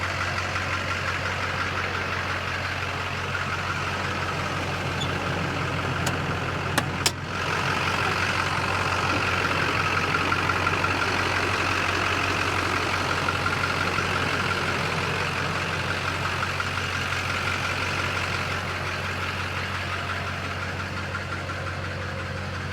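A 2003 Chevy Silverado 2500HD diesel truck idles with the hood open, giving a steady, close diesel clatter and low rumble that runs on evenly, with a couple of brief clicks partway through.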